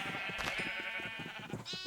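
Blocky sheep in Minecraft bleating, a steady wavering baa held for most of two seconds with a second short cry near the end, clear and fairly close with a faint game background and no talk.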